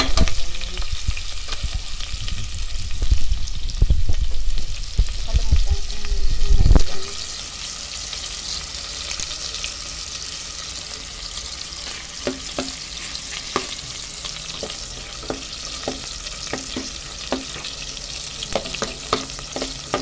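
Garlic fries in a pan for a stir-fry of young corn and carrots, a loud continuous sizzle with a heavy stirring burst early on, then a steadier hiss with light scraping clicks.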